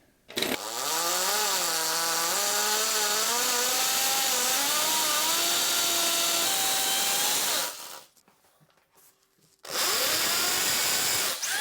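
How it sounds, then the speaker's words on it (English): A power drill bores holes for a Saniflo upflush toilet installation in a basement, a loud close whine rising and falling in pitch as the motor loads, pausing briefly before starting up again. "Let me drill these holes and we'll get back."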